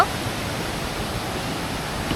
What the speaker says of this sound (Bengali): এই অন্ধকারের মধ্যে ঝর্নার শব্দ শোনা যাচ্ছে